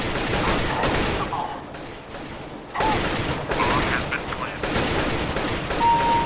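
Gunshots in Counter-Strike: Global Offensive ring out in loud repeated bursts with brief gaps, dense and close throughout.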